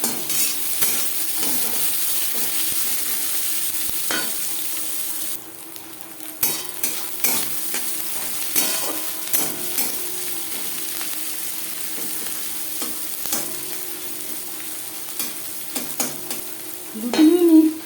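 Chopped onions fry in hot refined oil, keeping up a steady close sizzle with repeated scraping and stirring strokes of a spoon against the pan throughout.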